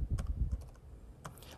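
Keystrokes clatter on a defective computer keyboard in a short burst of several quick taps, then a pause and a couple more clicks, fairly close and without talking.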